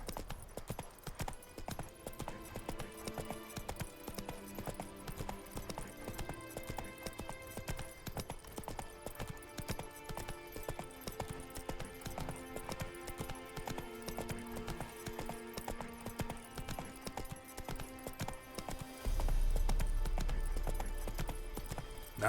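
Roach, a horse in a video game, gallops with a continuous, even clip-clop of hooves under a layer of music, and a heavy low rumble swells near the end.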